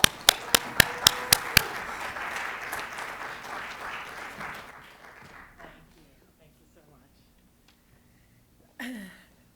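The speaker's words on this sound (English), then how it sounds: "please give a round of applause" Audience applause welcoming a guest speaker at a university lecture, a few sharp claps at the start swelling into a full, steady round of clapping that fades out after about five seconds, followed by quiet shuffling and a brief voice.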